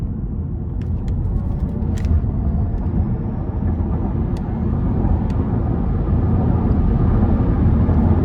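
A 2017 Chevrolet Bolt EV LT accelerates hard in sport mode, heard from inside the cabin as a loud, steady, continuous rumble of road and tire noise with no voices.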